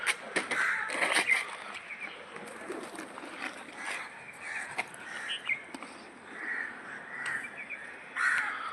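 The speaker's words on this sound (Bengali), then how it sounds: "কাক আছে" Several crows cawing outdoors at a feeding spot with pigeons around, repeated harsh caws at moderate distance over quiet background, a few louder bursts near the start and end.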